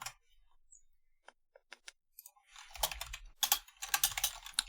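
Computer keyboard typing in quick bursts, sparse single clicks at first, then denser rapid clatter with a few mouse-like taps, fairly close, no talk.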